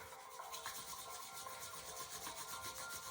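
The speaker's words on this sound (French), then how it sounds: "frotte-les avec énergie" Hands rubbed together energetically, a close, brisk rasping swish repeating in quick even strokes, quiet and steady with no voices.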